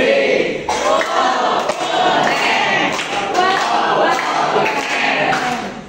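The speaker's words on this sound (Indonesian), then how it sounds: "Kelompok 1, ayo kita kasih tepuk keren" A school class performs the "tepuk keren" clapping chant, with rhythmic group claps and thumps under loud children's voices chanting together.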